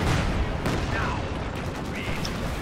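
Steady battlefield gunfire in Company of Heroes 2, rapid overlapping shots and distant bursts forming a dense wall of noise, with a faint whistle-like tone passing midway.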